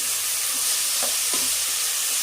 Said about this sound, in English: Stir it for some time.